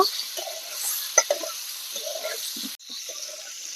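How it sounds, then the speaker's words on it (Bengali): Pointed gourd frying in a pan with salt and turmeric gives a soft steady sizzle, with scattered stirring clatters and scrapes close by and a brief sharper knock near the end. "দেবো সামান্য লবণ আর হলুদ গুঁড়ো সব কিছু দিয়ে আমি নেড়ে চেড়ে পটলটাকে ভেজে নেব"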